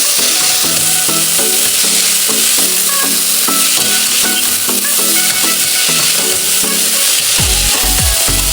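Sautéed pasta with vegetables and saucisson sizzles loudly in a pan. A utensil scrapes and stirs in a steady rhythm of knocks throughout, with no talk.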